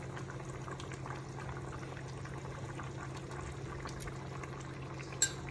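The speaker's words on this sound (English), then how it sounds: "Let it boil for some more time." Kerala-style curry of avoli (halwa) fish bubbling in a pot: a quiet, steady simmer with a low, even hum of boiling underneath, then one short sharp click near the end.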